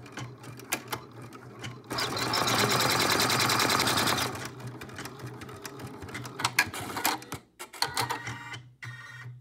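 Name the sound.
embroidery sewing machine stitching applique step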